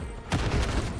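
Video game pistol gunfire erupts suddenly as a loud, dense burst of rapid shots with no talking over it.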